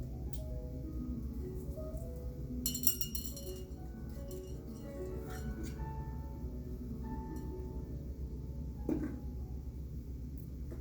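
A thick, heavy glass Johnnie Walker Blue whisky bottle gives a bright clink around the three-second mark and a softer knock later, heard over a low background hum with quiet handling noises and no talk.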